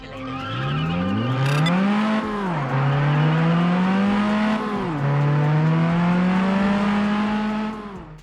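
A car driving in the PSP racing video game Test Drive Unlimited, a loud engine revving up through gears with steady rising pitch and falling shifts, accompanied by tire screeching, with no talk.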